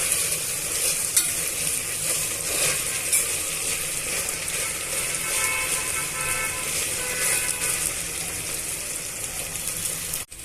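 Ginger garlic paste frying in a pan for aloo matar pulao, a loud, dense, continuous sizzle with occasional scraping of a spoon, no talking.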